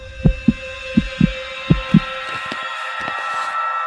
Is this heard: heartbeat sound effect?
yes